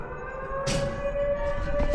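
A steady siren tone wails somewhere out in the middle of nowhere, a sustained held pitch that runs through the whole clip over rumbling background noise, with a burst of broadband rustle partway through.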